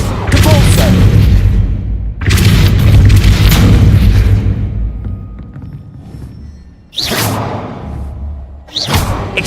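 Depulso spell blasts in the video game Hogwarts Legacy, a few loud booming impacts with long rumbling tails, separated by brief lulls amid game noise.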